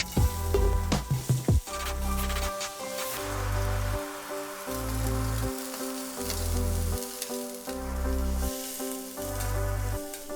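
Chopped carrots hit hot refined oil in a pan for a carrot and capsicum stir fry, giving a steady close sizzle with a faint bubbling crackle and a few clatters at the start, heard alone without talk.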